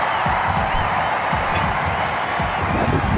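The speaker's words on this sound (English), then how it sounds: "the crowd goes crazy because they're watching it on the big screen" A stadium crowd at an IPL cricket match in Bangalore cheers and whoops loudly and steadily, with claps and shouts scattered through the broad, continuous roar.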